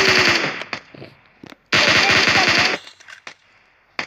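Rapid automatic gunfire in the battle royale game PUBG, loud close bursts with a long sustained volley in the middle and scattered shorter shots around it.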